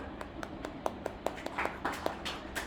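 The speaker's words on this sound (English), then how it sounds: "Shall we clap for her?" A small group claps for a young girl, giving sparse, uneven hand claps that land as separate sharp slaps, several of them close and fairly distinct.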